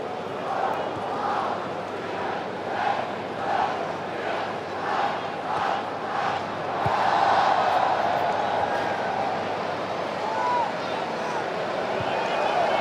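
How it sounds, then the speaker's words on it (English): A stadium crowd in Germany at the 2017 Audi Cup final between Atletico Madrid and Liverpool rises in rhythmic pulses of cheering during a Mexican wave, then swells into a fuller roar, with a commentator speaking over it. "the crowd getting a little excited by the La Ola wave"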